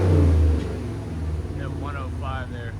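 A 2022 Jeep Wagoneer's 5.7L HEMI V8 with Valvetronic Designs true dual exhaust, valves open, lets out a loud, deep rev burst that quickly falls back to a low idle rumble while people talk over it.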